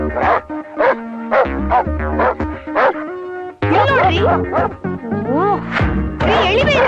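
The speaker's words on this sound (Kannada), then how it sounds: "ನಾಯಿ ಇದನ್ನೇ ನೋಡಿ ಬೊಗಳ್ತಾ ಇದೆ" A dog barks and yips repeatedly up close in quick bursts, mixing sharp barks with higher whining yelps.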